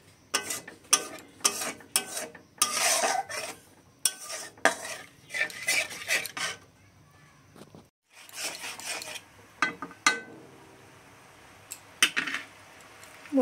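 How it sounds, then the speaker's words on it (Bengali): Slit green chillies with a little water being stirred in a pan, a metal spoon scraping and clinking in irregular bursts with short quiet gaps and no talk. "কাঁচা লঙ্কা চেরা, সাথে একটু জল দিয়ে বন্ধুরা ভালো করে নাড়াচাড়া করে নিতে হবে।"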